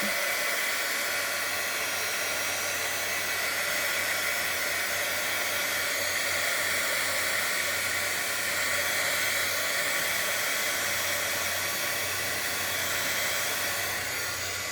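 Hair dryer blowing steadily to dry stamped ink on a handmade card, a continuous close whoosh with hiss that holds level throughout without pause.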